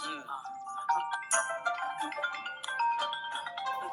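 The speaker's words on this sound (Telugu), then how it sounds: "అరే ఇంతే ఫోన్ చేస్తుందిరా" A phone ringtone plays a bright, tuneful melody while people talk over and around it.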